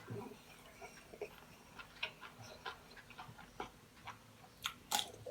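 Stir-fried spicy egg roe is chewed close to the mic, with quiet, irregular wet clicks and small crunches repeating over several seconds.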